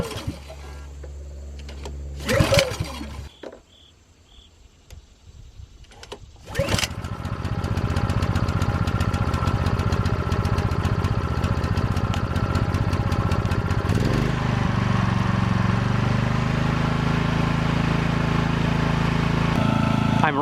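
Power Smart 4400W inverter generator pull-started: a couple of rope pulls and a brief sputter, then the engine catches and settles into a steady, loud running hum with a shift in pitch partway through.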